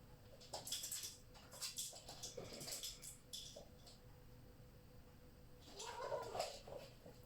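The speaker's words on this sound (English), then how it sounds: "The cats are playing in the background." Cats playing somewhere in a room, giving scattered bursts of mid-to-high cries, thumps and scuffles spread across the stretch, faint and in the background, with a louder vocal outburst near the end.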